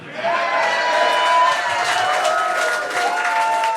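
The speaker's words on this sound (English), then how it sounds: "How about a big round of applause for our amazing guest, Zac Amico." Applause and cheering from a live comedy podcast show audience, a dense steady wash of clapping and crowd noise held close and loud throughout, with voices and whoops mixed in.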